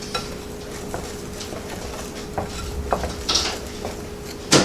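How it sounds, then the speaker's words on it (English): Dry ingredients for pumpkin cornbread whisked in a bowl, a close, scratchy stirring with scattered light taps and one louder clink of the whisk against the bowl at the end; no voices. "So we're just going to go ahead and whisk together our dry ingredients"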